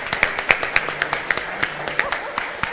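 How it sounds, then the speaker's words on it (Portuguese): Scattered claps from a small crowd at an awards ceremony, uneven and moderately loud, with voices murmuring and a faint whistle in the background. "uma salva de palmas para os três,"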